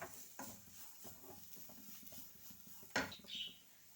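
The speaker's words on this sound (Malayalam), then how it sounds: "ഇനി നമുക്ക് ഇതിലേക്ക് ഗ്രേറ്റ് ചെയ്ത് വെച്ചാൽ രണ്ട് ക്യാരറ്റ് കൂടി ഇട്ട് വഴട്ടാം ക്യാരറ്റ് നല്ലപോലെ വഴണ്ട് വരട്ടെ" Grated carrots are stirred in a pan with a soft sizzle, the spoon scraping and tapping against the metal every so often, including one sharp clink near the end.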